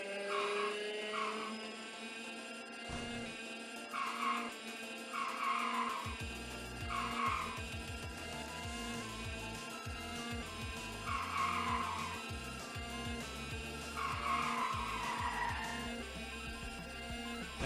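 Kart racing in the Mario Kart video game, with repeated skidding tire squeals and drift sounds over buzzing kart engines, rising and falling in bursts through the race with no commentary.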